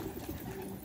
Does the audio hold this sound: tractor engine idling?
no